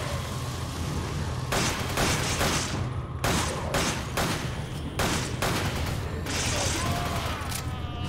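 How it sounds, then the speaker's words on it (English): Acid rounds fired in Resident Evil 5, a run of loud, heavy gunshots in bursts over constant game background noise, close and dominant. "I'm just gonna let these acid rounds fly."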